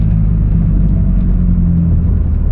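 A loud, janky Pontiac G5 engine rumble drones steadily up close, with a low, rough throb and no voices.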